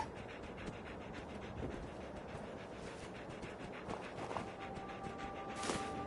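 A dog companion in the video game Fallout 4 pants steadily and rapidly, moderately close, over a dense continuous background of game ambience with a few faint clicks.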